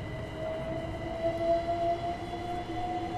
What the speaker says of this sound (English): another train is on the way out